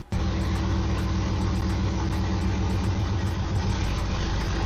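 A Camaro engine with a newly installed T56 transmission idles loudly and close by with a steady, rumbling, pulsing drone that starts abruptly and continues throughout.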